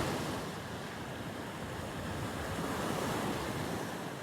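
Ocean waves wash steadily onto a beach at Sipanay in a broad, continuous rush of surf mixed with wind noise, with no voices.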